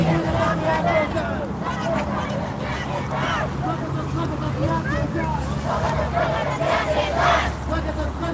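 A crowd of Yellow Vests protesters in Colorado shouting and chanting outdoors, a dense continuous hubbub of voices with raised cries, traffic rumbling underneath.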